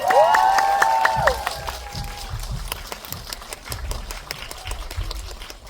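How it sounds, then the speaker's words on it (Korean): Audience applause at a Korean film screening Q&A for the movie Exit, a crowd clapping steadily with some cheering, beginning under a few loud whistles or shouts and continuing as a sustained wash of claps. "큰 박수 부탁드립니다"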